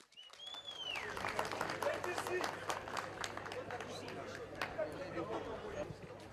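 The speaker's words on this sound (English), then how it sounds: "A round of applause, please." Applause and crowd noise around a boxing ring as a supervisor is called in, steady mid-distance clapping with background chatter throughout.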